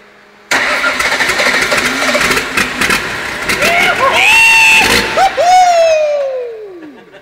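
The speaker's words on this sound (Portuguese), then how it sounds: "vamos fazer roncar alto esse motor" A stripped-down Chevrolet Silverado engine in a workshop starts abruptly and revs loudly, the pitch climbing and falling through several hard revs before winding down, with a crowd murmuring in the background.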